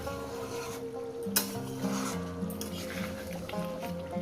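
Chicken curry sizzles and is stirred in a pan, a steady frying hiss with occasional scraping, heard up close under a continuous tonal musical background.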